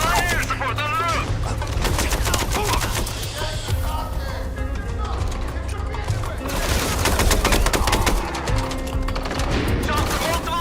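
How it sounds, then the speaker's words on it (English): Dense gunfire crackles from several directions at once during a firefight in the video game MINDSEYE, with continuous overlapping shots, bursts and impacts that stay loud throughout, while voices call out over the chaos. "Shots in multiple directions!"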